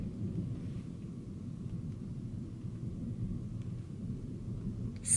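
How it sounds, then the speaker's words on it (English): Low, distant thunder rolling steadily through a cloudy, sprinkling summer afternoon, a deep continuous rumble lasting several seconds with no voices. "it just thundered a little bit"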